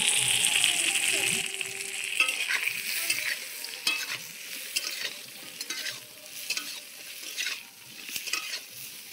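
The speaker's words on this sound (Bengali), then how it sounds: "এই চিংড়ি মাছ ভাজা তেলের মধ্যে দিয়ে দিচ্ছি এবার ছোট ছোট করে কেটে রেখে দেওয়া আলু" Small cut potato pieces fry in oil left over from frying shrimp, giving a steady close sizzle and crackle with occasional utensil stirring scrapes and no talking.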